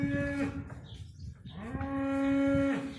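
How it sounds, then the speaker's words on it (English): Cattle moo several times, long low calls overlapping from a couple of animals, fairly close with some outdoor background. "That's actually the main cow herd down there with calves now."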